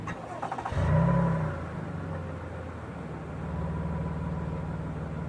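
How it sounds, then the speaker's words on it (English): A 2018 Toyota Highlander Limited Platinum AWD starts with a push-button start: a short starter whir, a loud catch and rev, then the engine settles into a steady, low idle, heard from inside the vehicle. "put your foot on the brake, and hit the button to start"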